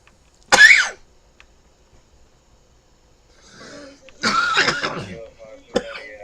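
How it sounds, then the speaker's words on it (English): A person coughs once sharply, then again in a short harsh burst a few seconds later, close and loud against near silence, with a faint voice between. "Why does my cough sound like a cat?"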